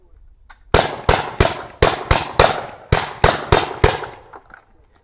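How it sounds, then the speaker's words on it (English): A Gatling gun fires in a demonstration, a series of about eleven loud, sharp shots at a steady, fairly quick pace, each ringing briefly, with a faint voice near the end. "That's a demonstration of a Gatling gun."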